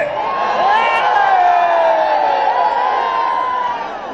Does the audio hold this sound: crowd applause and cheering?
yes